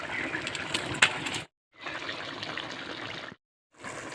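Raw oil is poured over a katla fish curry with eggplant, a close trickling, splashing pour that comes in two longer bursts separated by short silences, followed by the start of a third.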